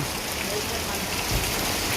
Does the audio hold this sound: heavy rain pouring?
yes